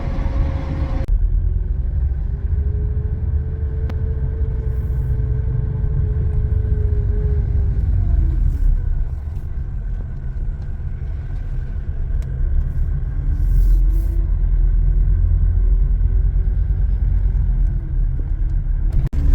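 A taxi car in Poland drives along, with a steady low cabin rumble and a faint engine tone that rises and falls, continuous and fairly loud, with no talking.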